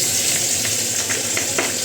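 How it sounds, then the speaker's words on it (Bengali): Fish fries in a little oil with a steady, close sizzle and occasional sharp pops and spits rising above the crackle. "অল্প তেলেই ভাজবো আর এমনিতে যেহেতু মাছটা প্রচুর পরিমাণে মানে ছিটায়"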